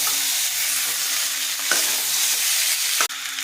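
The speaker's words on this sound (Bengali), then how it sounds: "আলুটা হালকা হাতে নেড়ে নিলাম" Potatoes frying in a spiced oil mix of turmeric and chili powder, a dense continuous sizzle with occasional scraping strokes as they are gently stirred in the pan, close and loud.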